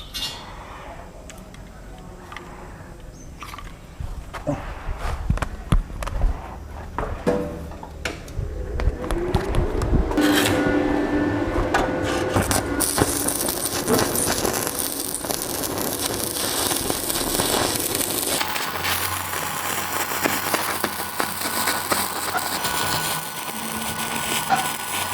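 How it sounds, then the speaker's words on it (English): Welding work to close a gap: after some clinks and handling noises, a steady, loud crackling hiss sets in and runs continuously to the end, close by. "So I'm starting my welding."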